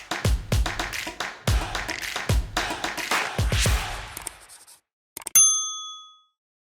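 Several busy taps and clatters are followed by a single bright notification bell ding that rings out clearly and fades after the noise stops.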